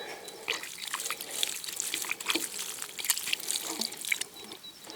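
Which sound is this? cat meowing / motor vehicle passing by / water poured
water poured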